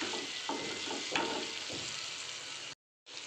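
Chillies frying in a pan for chilli paneer sizzle steadily up close, broken by a few stirring knocks, before the sound cuts out briefly and then resumes.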